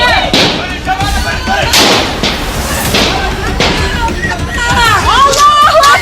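Gunfire crackles in a loud, chaotic outdoor scene: sharp repeated bangs and thuds scattered irregularly over a crowd's shouting and babble.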